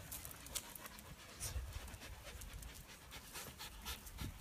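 Soft, fast panting from a dog nearby, a quiet, steady rhythm of breaths with a few small shuffling sounds and no talking.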